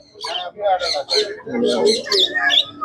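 Pet birds chirping and tweeting in quick bursts, several calls overlapping at close range, with some voices mixed in, at Serampore pet market.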